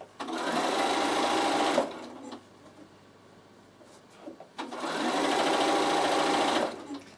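A Bernina sewing machine stitches a half-inch seam on a fabric storage basket in two loud, steady bursts, each nearly two seconds long, with a quiet gap between them.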